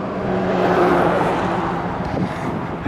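A Miata engine that has sat idle for eight months idles steadily just after starting, a continuous low rumble close by with no voices over it.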